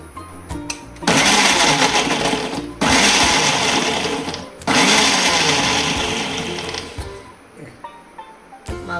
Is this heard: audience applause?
no